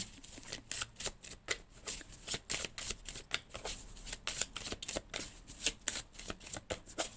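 Tarot cards are shuffled close up in quick riffling, flapping bursts, an uneven rapid rhythm sustained throughout at a quiet level with no voices.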